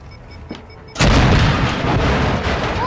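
A planted breaching charge detonates in Modern Warfare 2, one sudden heavy boom about a second in, followed by sustained roaring noise and debris rumble.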